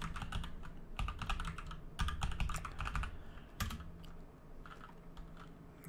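Someone types a command on a computer keyboard in short, rapid bursts of clicky keystrokes separated by brief pauses, close and clear, with no talking.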